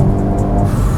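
A Hyundai Kona N engine roars steadily at close range, a loud sustained revving drone with a slight whir on top.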